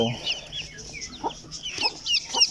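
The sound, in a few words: newly hatched Silkie chicks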